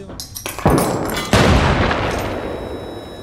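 In the shooter game Arena Breakout Infinite, two loud grenade blasts go off about a second apart, each a sharp boom followed by a long rumbling roar. Lighter crackles come before them.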